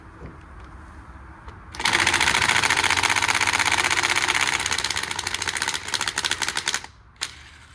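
A Snap-on cordless power tool starts after a quiet moment and runs sluggishly on its battery with a loud, rapid mechanical rattle for about five seconds, then winds down with a few uneven bursts and one last short blip.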